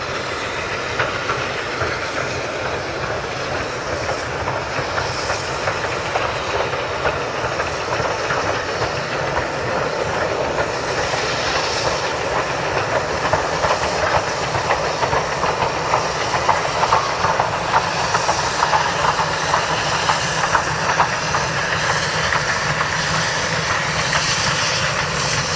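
Furness Railway No. 20 steam locomotive rumbles past on moorland with rhythmic clattering wheels and a steady hiss, loud and continuous throughout.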